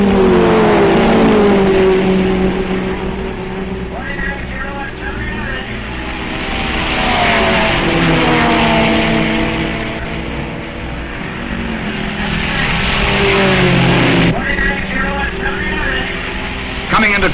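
Vintage 1958 Porsche GT Carrera race cars sweep past at Road America in a close pack of three, engine notes rising and falling as they go by, loud throughout with a commentator talking over them.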